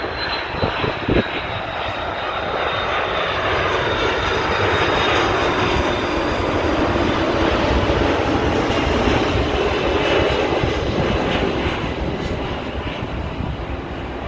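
A heavy airliner lands at Sydney Airport, its engine roar building into a loud, sustained rumble that swells through the middle and holds steady, heard from fairly near with no talk.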